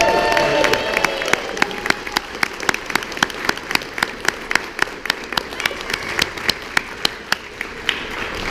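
Audience at a small comic convention Q&A applauding and cheering, a dense steady wash of clapping with scattered sharper claps and whoops throughout, close and loud.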